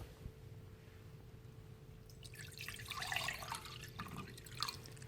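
Room-temperature water is poured into a cold pan in a home lab, a soft splashing trickle with drips that starts after quiet room tone, close but faint.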